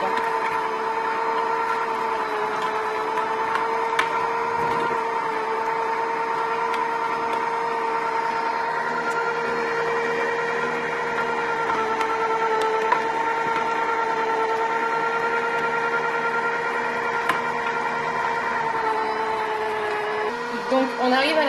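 A Klarstein Flowjuicer slow screw juicer runs with a steady, loud motor hum and a whine at a constant pitch, holding unchanged for about twenty seconds before a brief shift at the end.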